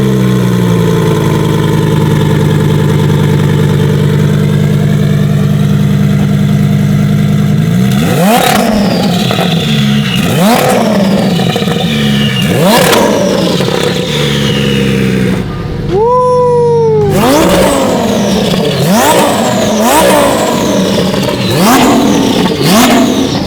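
Supercar engine idling loud and rough, then a series of sharp rising revs with bursts of exhaust, one brief pause, then more throttle blips, very close and without talk.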